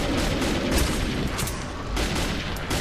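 Dense, sustained bursts of silenced rifle gunfire with stock in Metro 2033, crackling continuously without pause as a loud, noisy firefight.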